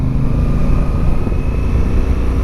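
A steady, droning motorcycle engine holds an even pitch at constant throttle, loud and close with a continuous low rumble.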